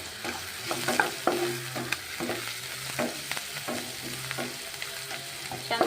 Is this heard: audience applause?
no